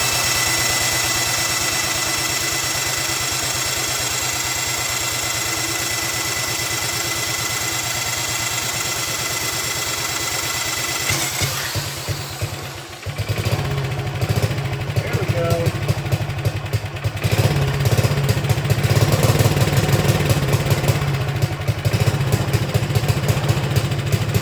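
A Wheel Horse RJ 58/59 engine with an untuned carburetor runs close by, a steady, rough idle with a buzzing drone that stumbles briefly midway and then picks back up, louder and more uneven.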